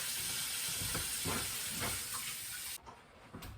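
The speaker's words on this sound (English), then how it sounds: "I'm washing my hands because of the oil." Tap water runs steadily over hands being washed in a home kitchen, a soft even hiss that cuts off abruptly near the end.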